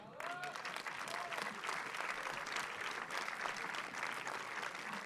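Steady applause from a large audience at a film festival closing ceremony, continuous and full throughout, with many hands clapping at once.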